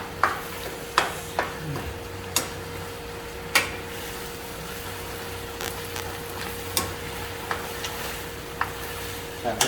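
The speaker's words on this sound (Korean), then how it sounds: "자, 그 다음에 계속 볶아주세요." Ingredients for sundubu-jjigae stir-fry with a soy-based seasoning sauce, a steady low sizzle punctuated by regular sharp taps and scrapes of a utensil against the pan, close by, with a faint hum underneath.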